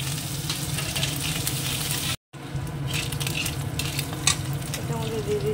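Ginger paste and chopped green chili stirring and frying in a pan, with a steady close sizzle broken by a brief cut and scraping spoon strokes over the top.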